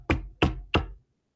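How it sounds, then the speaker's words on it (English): Three firm knocks on a door land in an even rhythm, close and clear, then stop, with no talk. "then he scanned with him into the heaven of the world and knocked at one of its doors"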